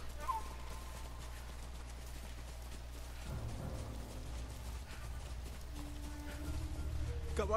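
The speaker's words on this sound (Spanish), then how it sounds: "Caballos, vienen por nosotros" Horses galloping in the Ghost of Tsushima video game, a faint rhythmic clip-clop of hooves over a low ambient rumble, somewhat distant and quiet.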